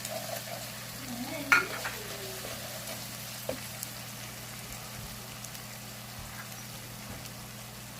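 Garlic and ginger frying in a pan as whole spices like cinnamon, black cardamom and cumin go in, a low steady sizzle with a brief clink and stirring scrape early on.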